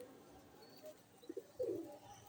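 A few faint, brief pigeon coos from birds at a pigeon market, soft and scattered over quiet background noise.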